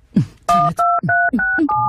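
Telephone keypad tones being dialed, a quick run of four or five steady dual-tone beeps with short gaps and soft thumps from the buttons, loud and close, with no talking over them.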